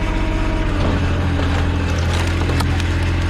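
Firewood processor running at idle, its hydraulic ram slowly pushing a log through the splitter, with a steady loud engine drone and rumble and occasional woody creaks and cracks as the wood gives.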